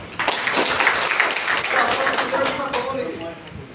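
Audience clapping at an awareness event at Govt ITI Biswanath, a dense patter of hands with voices talking over it, fading slightly toward the end.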